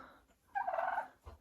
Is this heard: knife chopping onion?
no